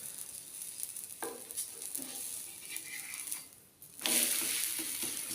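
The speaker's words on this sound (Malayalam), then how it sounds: "ചപ്പാത്തി ഇട്ടിട്ട് മേലും താഴെ കുറച്ച് നെയ്യ് ഒഴിച്ചെടുക്കുക" Chapati frying in a pan with ghee, giving a steady soft sizzle with a few brief scrapes and a louder hiss that swells near the end.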